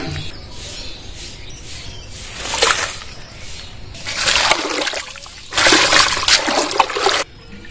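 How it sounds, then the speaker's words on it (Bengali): Spinach is rinsed in a basin of water in a kitchen, with bursts of splashing and swishing as the leaves are agitated, quieter trickling and dripping between the bursts, and the sound stopping abruptly at the end. "এবার পালং শাকটা ভালোভাবে ধুয়ে নিয়ে আসবো।"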